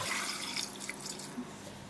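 Water running and splashing into a pot for boiling small skin-on potatoes, a steady close stream with a few bright drips and splashes throughout, no voices.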